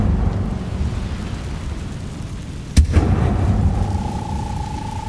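Incendio fire spell cast in Hogwarts Legacy bursts with a single sharp, loud crack partway through, followed by a rumbling whoosh and a lingering tonal hum over steady background noise.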